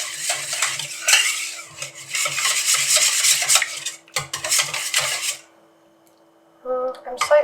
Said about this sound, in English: And then I'm just going to whisk that together as well.